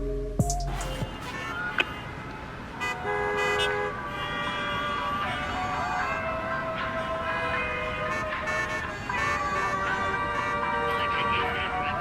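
Car horns toot amid street traffic, set inside a busy music track that plays loudly throughout.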